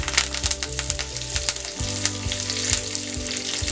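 Cumin and mustard seeds hit hot oil in a pan, giving a close, steady sizzle with a string of sharp popping crackles as the seeds sputter.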